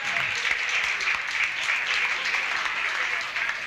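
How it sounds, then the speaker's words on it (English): A crowd at a commemoration event honouring Roberto and Vera Clemente breaks into steady, continuous applause, a dense wash of clapping that holds at an even level throughout. "We have a round of applause for everyone."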